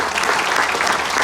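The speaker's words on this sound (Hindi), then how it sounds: "जरा जोरदार तालियां वेस्टिज" At a business-plan meeting for the Vestige company, an audience bursts into loud, dense applause, many hands clapping at once in a steady, close roar.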